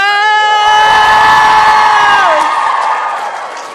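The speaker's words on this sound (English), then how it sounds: "I need y'all to be screaming and clapping" A TwitchCon panel audience screams, whoops and cheers loudly as a guest is introduced, a dense sustained crowd roar with high shrill voices that fades slightly at the end.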